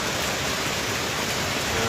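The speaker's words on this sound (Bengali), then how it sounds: "বৃষ্টি হচ্ছে" Rain falls hard over a village, a thick continuous wash of pattering drops close and all around, steady in strength, with nobody speaking.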